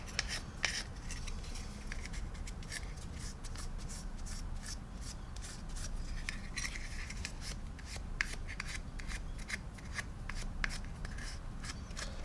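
Quick, repeated rubbing and swishing of cloth wiping paint off a model military aircraft, close and quiet, in irregular strokes with no talking.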